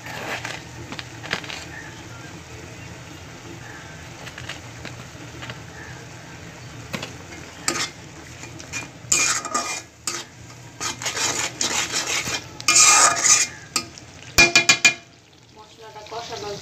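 Spice paste with chilli powder and salt stirred and fried in a pan, with a continuous close scraping and sizzle that grows busier and louder midway, punctuated by spoon knocks against the pan.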